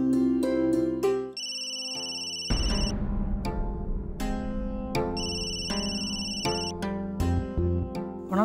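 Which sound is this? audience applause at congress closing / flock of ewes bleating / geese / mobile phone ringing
mobile phone ringing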